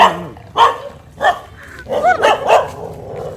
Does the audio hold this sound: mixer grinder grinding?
no